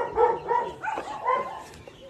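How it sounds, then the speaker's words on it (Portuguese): A dog barks a few times nearby, with soft, irregular woofs and yips at modest volume, mixed with faint background noise. "O cachorro tá aqui."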